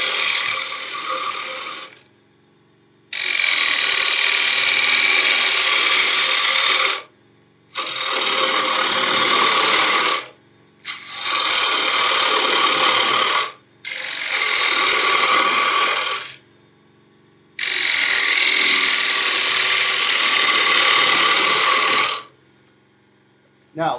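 A 5/8 inch bowl gouge cuts a small bowl on a wood lathe, producing six loud, sustained bursts of harsh scraping with short silent gaps between them.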